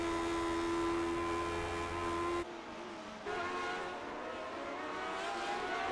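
Race cars pulling out of the pits at Sonoma during a Lionheart Retro Series round, engines droning loudly, then a sudden drop and a fresh surge of engine noise as the cars rejoin.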